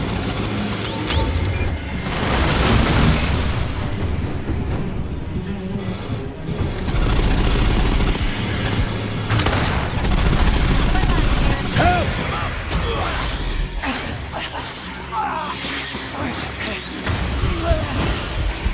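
Heavy gunfire from the video game Aliens: Fireteam Elite 2 comes in loud bursts and fusillades against Xenomorphs, mixed with booms, mechanical clanks and brief in-game voice callouts.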